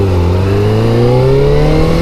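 A Kawasaki ZZR600 motorcycle pulls away in first gear, its engine note rising steadily and loudly as it accelerates, close and continuous with no talk.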